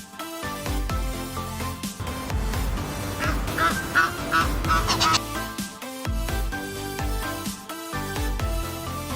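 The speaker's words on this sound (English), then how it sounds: "The park is animated by a lot of birds." Ducks quack repeatedly among other birds at a small park lake in Brussels, the calls clear and fairly close, rising into a busy chorus midway with a few louder honks.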